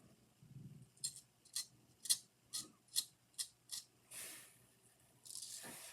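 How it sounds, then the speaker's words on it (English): Small scissors snip a mustache during a straight razor shave, a series of about eight crisp, close, evenly paced clips followed by softer brushing sounds. "Once in a while, you got to trim your mustache a little more."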